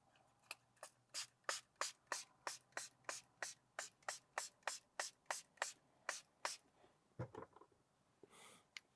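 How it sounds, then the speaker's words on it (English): A spray bottle of cleaning liquid is pumped onto the touch screen of a Ford Mustang Mach-E, about twenty quick evenly spaced spritzes close by, followed by brief rustling and handling sounds. "So let me just spray it real quick."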